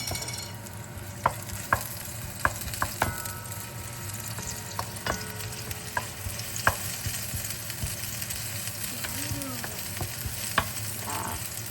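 Shallots and onions fry in a pan with a steady close sizzle, punctuated by occasional clicks and scrapes of stirring.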